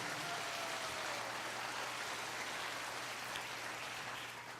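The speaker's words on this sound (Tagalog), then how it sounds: "Ato daw tagaan og kusog nga palakpak atong buhi nga Dios ana" Congregation clapping together at a church service, a steady dense wash of applause from a crowd, fairly distant and even throughout, with a faint hum underneath.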